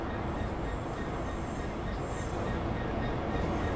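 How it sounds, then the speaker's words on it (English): A train pulling into Reading railway station, a faint but steady rolling rumble of wheels and carriages in the distance with no voices over it. "Yeah, there's my train."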